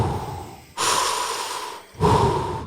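Two quick, deep inhales during a breathing exercise, each a loud, rushing intake of air close to the microphone, separated by a brief pause.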